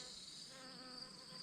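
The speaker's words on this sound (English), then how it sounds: "I hear a bee." A bee buzzes in a backyard vegetable garden, a faint steady insect hum with a clear tonal whine, close by and alone.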